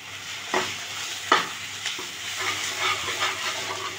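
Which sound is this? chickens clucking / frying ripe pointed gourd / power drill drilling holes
frying ripe pointed gourd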